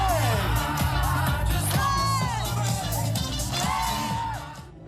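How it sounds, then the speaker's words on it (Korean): At an outdoor Zumba dance workout in a city, a crowd cheers and whoops along with lively music, loud and close, with some shouting voices mixed in. "경쾌한 음악과 함께 환호 소리가 울려 퍼집니다"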